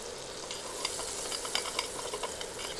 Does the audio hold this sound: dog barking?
no